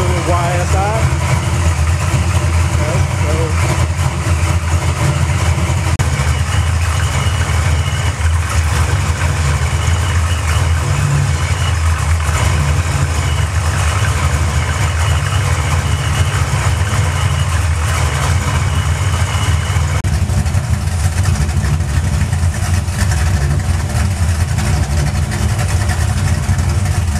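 Tuned car engine fitted with an S-trim turbo idles loud and steady throughout, a constant close rumble with a voice speaking over it.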